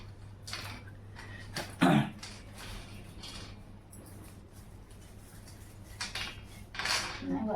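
Sesame seeds for til ladoo are pounded in a mortar, with a few sharp clinking knocks and scraping sounds mixed with light kitchen clatter and occasional talking.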